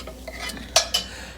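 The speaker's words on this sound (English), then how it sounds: "I'm frying up the eggs" Eggs frying in a pan while being stirred, with a utensil scraping and clinking against the pan in a few sharp knocks over a low, steady sizzle, close and fairly quiet.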